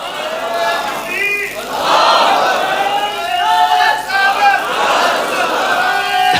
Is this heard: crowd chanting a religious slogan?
yes